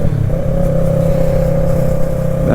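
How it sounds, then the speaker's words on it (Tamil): Yamaha YZF-R3 motorcycle accelerating, its exhaust note a loud, steady drone with strong low harmonics holding close and continuous throughout. "So exhaust note ultimate."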